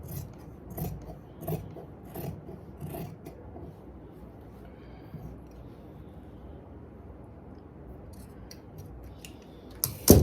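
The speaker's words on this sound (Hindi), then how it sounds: "इसके लिए मैं इसको हल्का सा ऊपर से कटिंग करूंगी, ताकि सिलाई का मार्जिन साथ ही रहे।" Scissors cut fabric to shape a dress neckline, a few close snipping and rasping strokes at the start, then quieter fabric rustling, with a sharper handling noise at the end.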